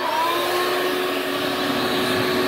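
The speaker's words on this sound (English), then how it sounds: "Just got a normal shop vac. So obviously, it's going to be a little loud when I turn it on here" A standard shop vac runs loud and steady close by, a continuous motor whine with a rushing airflow roar that holds constant throughout, with no talking.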